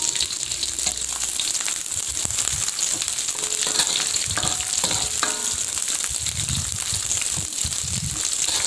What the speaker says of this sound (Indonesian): kita masukkan juga daun karinya sama serai yang udah kita geprek kita tumis harum ya sebentar